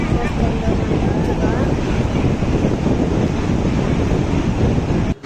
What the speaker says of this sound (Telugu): అక్కడ అలలు చూడండి.